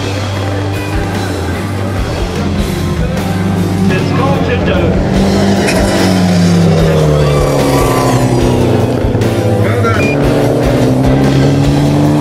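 Rallycross race cars at a live event, engines loud and continuous with rising and falling pitch as they race past, a dense roar filling the whole stretch.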